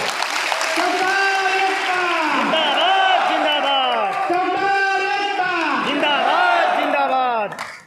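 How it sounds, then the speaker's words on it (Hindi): A loud crowd at a political rally in India roars with overlapping shouts, whoops and cheers, many raised voices swelling in waves, with clapping hard to pick out beneath the cheering, before cutting off abruptly at the end. "इसके लिए एकदम जोरदार ताली होनी चाहिए आपको"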